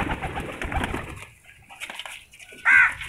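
Black-faced racing pigeons in a loft coo softly and flap their wings nearby under low background noise, ending with one louder, sharper call.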